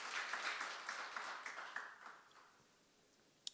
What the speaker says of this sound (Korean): 우리 격려 박수 한번 할게요